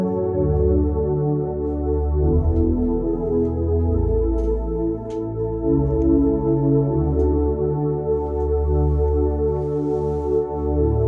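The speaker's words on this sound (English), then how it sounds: "Analog pad sounds like this" An analog pad synth voice on a Yamaha YC stage keyboard plays warm, sustained chords that shift slowly and steadily, with no gaps, for about eleven seconds.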